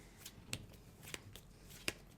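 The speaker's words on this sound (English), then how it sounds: "Easy on the shuffling, mate." Playing cards being shuffled at the table during a competitive card game match, a few short riffling bursts spaced irregularly, fairly close but quiet against a low room hum.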